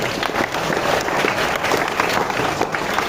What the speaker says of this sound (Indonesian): Tepuk tangan buat teman kita.